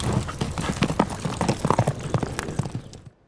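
Horse hooves clip-clop in a steady walking rhythm, close and fairly loud, with no talk over them; the sound stops abruptly near the end.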